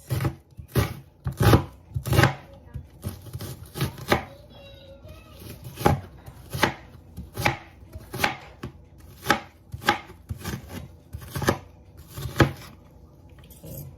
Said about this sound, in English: So now let's dice it.